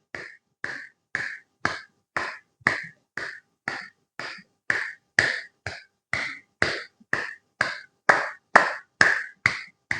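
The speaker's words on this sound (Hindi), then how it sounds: "कम से कम 100 बार तालियों को बजाना चाहिए हाथों के पॉइंटों के लिए" Steady hand clapping done for acupressure on the palms, about two crisp claps per second in an even rhythm, close and moderately loud with nothing else around.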